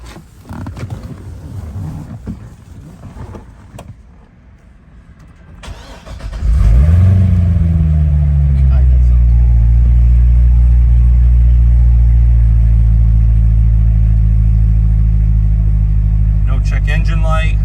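A 2009 Chevrolet Corvette ZR1 engine cranks and catches, then settles into a loud, steady low rumble that holds close by; a voice talks briefly before it starts.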